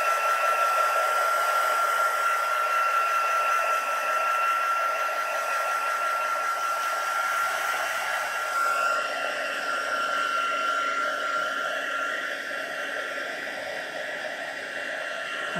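A heat tool blows a steady, loud, breathy rush of air over a wet craft piece, holding a constant whine and shifting slightly in tone partway through, with no talking.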